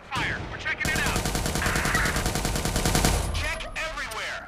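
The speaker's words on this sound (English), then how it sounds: "Squad, we hear gunfire." Rapid bursts of video game gunfire, sustained automatic fire with overlapping shots, loud and dense for several seconds before tapering off, with voices faintly underneath.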